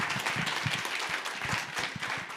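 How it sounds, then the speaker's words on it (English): Audience applause after a keynote co-presentation, a brief, dense, continuous burst of clapping from many hands, loud and close throughout. "Everyone, big round of applause"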